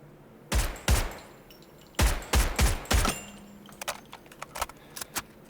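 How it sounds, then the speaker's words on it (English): Several sharp gunfire bursts ring out in the video game Delta Force Hawk Ops, followed by a string of light metallic clicks and rattles as the magazine runs empty, close and dry. "That's a really cool magazine sound when I'm out."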